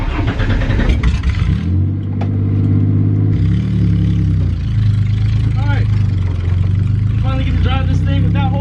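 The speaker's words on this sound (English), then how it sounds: "Let's go ahead and take it on a drive." A budget drift car's engine revs and pulls steadily while driving, loud and close with rising and falling harmonic tones, with someone talking over parts of it.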